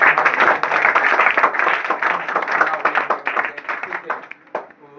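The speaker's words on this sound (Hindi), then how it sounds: "तो अपने माँ के लिए तुम्हें एक बार ताली बजा दें" Young children at an Independence Day school gathering clap for their mothers, a busy burst of close hand claps that thins out toward the end as a voice comes in.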